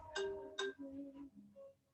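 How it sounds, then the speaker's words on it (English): A short, quiet electronic phone ringtone during a yoga session: a few bright chiming tones in a brief melodic phrase, heard alone without talk. "My ringer keeps ringing even though it's off."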